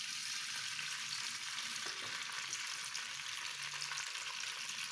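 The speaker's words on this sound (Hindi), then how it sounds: "तेल या ऑयल आप डाल रहे हैं।" Hot oil in a pan for chicken kadhi gives a constant, even hiss and crackle, close and moderately loud, with no talk over it.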